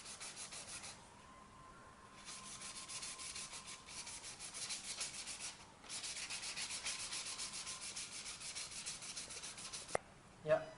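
Sandpaper rubs back and forth along the edge of a PCB board in fast, even strokes. The close, soft rasping runs in two long bursts separated by short pauses, followed by a couple of faint knocks at the end.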